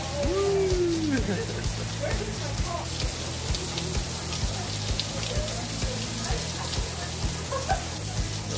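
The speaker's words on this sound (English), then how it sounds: "Here comes more rain." Steady rain patters on a surface with a constant hissing wash, while voices talk over it.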